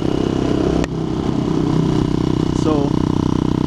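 A motorcycle rides along back roads toward Lake George, its engine droning steadily with wind and clatter, while a rider talks over the noise.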